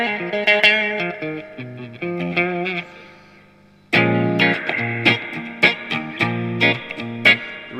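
Distorted electric guitar notes ring out through a Boss FDR-1 Deluxe Reverb pedal, a spacious wash trailing each phrase; a short pause then louder chords.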